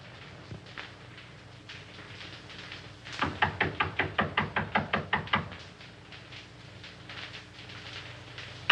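Knocking on a door in a 1933 film, a burst of about a dozen firm evenly spaced raps against a quiet background hiss, with fainter knocks before and after.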